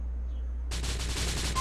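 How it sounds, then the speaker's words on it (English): A burst of rapid automatic gunfire in Grand Theft Auto 4 starts abruptly after a quiet lead-in and rattles steadily for about a second, moderately loud, with no talk over it. "Shoot him in the ass."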